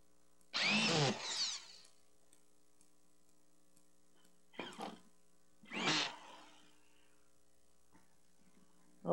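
A power drill drives screws into drywall sheets during a hanging job, heard as three short whirring bursts a few seconds apart, the first longest, with quiet room hum between them.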